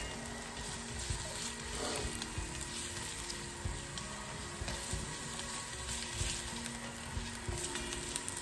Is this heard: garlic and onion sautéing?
yes